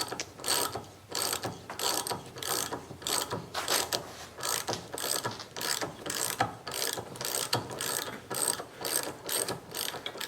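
A ratchet turns a thread chaser through the threaded holes of a Cub Cadet LGTX1054 mower deck, with loud, close, rapid ratcheting clicks in steady bursts throughout and no talking.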